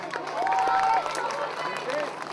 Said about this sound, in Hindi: एक बार फिर से जोरदार तालियां चाहूंगी मैं.